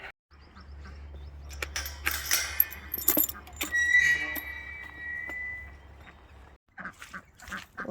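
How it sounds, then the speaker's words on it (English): Ducks quack in a wet winter garden, a scatter of short calls with clinking and rustling noises nearby and a steady low hum underneath, then quieter bursts near the end. "Hey, ducks. Hey, ducks. Come on."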